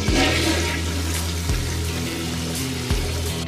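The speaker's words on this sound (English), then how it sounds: "Yeah, I need to flush it down." A toilet flushing in a Skibidi Toilet video game, a loud, steady rush of swirling water with low droning undertones that pulse and restart about every second and a half, with no talking over it.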